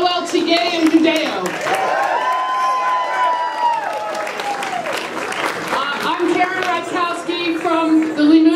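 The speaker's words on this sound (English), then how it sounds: "let's have a big round of applause for Hillel Tigay and Judeo" An audience at a Havdalah event during Limmud Los Angeles applauds warmly, a dense patter of many hands running through the whole stretch with cheers mixed in and a voice talking over it.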